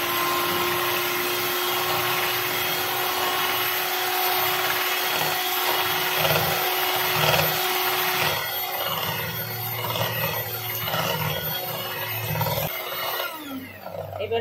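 A kitchen blender whirs steadily, mixing milk into a red velvet baked yogurt batter, its loud motor hum continuous with a shift in pitch partway through before winding down near the end.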